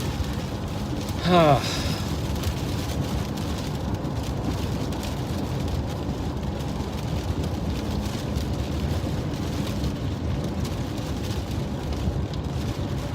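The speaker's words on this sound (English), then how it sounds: "It's just completely rain wrapped there on the right side of the screen." Heavy rain pouring down during a tornado-producing storm in Alabama, a dense, loud, unbroken roar of rainfall, with a brief tonal squeal early on.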